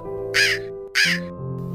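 A crow caws twice, loud and close, with each harsh call lasting about a quarter second over a steady low tonal hum, and no one speaking.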